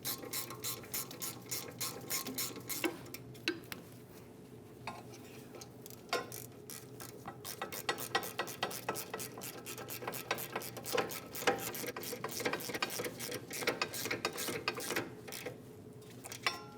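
A ratchet wrench clicks steadily while snugging down the caliper bolts on a 2010-2015 BMW X1 xDrive during a parking brake shoe job, fast close pawl ticks in uneven bursts.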